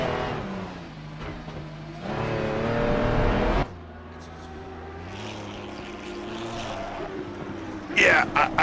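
A racing car pulls away at Bathurst during an endurance championship race, its engine droning and revving steadily under commentators' talk, with a brief louder burst near the end.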